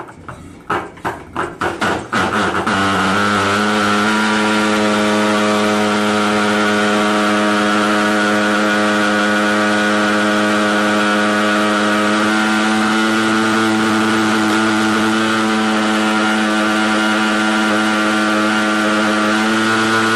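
LONGRAYFOG Enrich Fogger insecticide fogging machine engine sputtering through several rapid pulse bursts, then catching into a loud, steady, buzzing drone that holds close and continuous with no voices.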